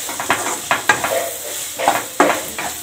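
A spoon scrapes and knocks against a cooking pan as spices are mixed in for Tamil karakulambu, giving irregular clinks and scrapes over a soft background hiss, with no voices.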